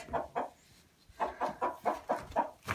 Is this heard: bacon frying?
no